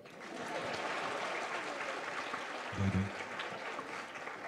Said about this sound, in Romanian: Nu, aplauze.